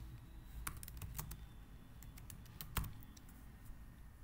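A search typed on a computer keyboard: faint, scattered key clicks in a loose rhythm over a low background hum.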